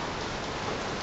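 Heavy rain pours steadily and loudly on a surface, a dense, unbroken hiss with no other sounds.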